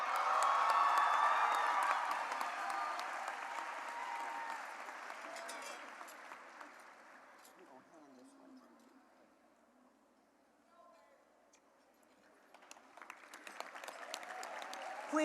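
Applause from a crowd at a high school graduation ceremony rises and fades unevenly, dipping to a faint lull midway before scattered clapping builds again; distant and somewhat muffled.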